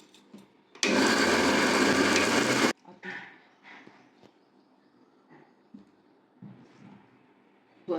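A mixer grinder loudly whirs for about two seconds while grinding rice and bitter gourd leaves for pakora batter, then cuts off, leaving quiet kitchen clatter and faint handling sounds.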